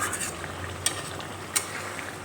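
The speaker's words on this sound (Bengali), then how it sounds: "জল দিয়ে একটু নেড়ে চেড়ে নিলাম" Omelette curry being stirred in a pan after water is added, a low continuous simmering hiss with two sharp utensil clicks against the pan.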